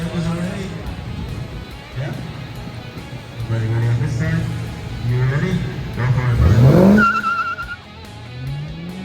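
A Ford Mustang, not yet set up for drifting, drifts with a loud engine roar, rising revs and a sharp tire squeal, under the sound of people talking.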